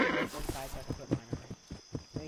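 A huge black horse in the video game Westbound whinnies at the start, followed by a steady rhythm of clip-clopping hoofbeats, close and clear.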